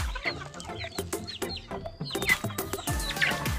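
Several chickens, small and large, cluck and squawk close by in overlapping bursts, with sharp knocks and rustling among them; the chickens have fowl pox.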